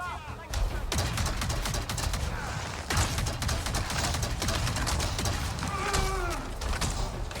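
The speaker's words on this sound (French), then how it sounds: "Des chasseurs attaquent! Utilisez des rafales courtes et contrôlées." Gunfire rips out in short, controlled bursts during a firefight in the Avatar video game, with repeated sharp cracks and rattling volleys layered over game sounds.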